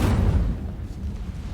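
Incendio fire spell cast in Hogwarts Legacy: a deep, rumbling burst of flame that flares loudly at the start, then settles into a lower, fading roar.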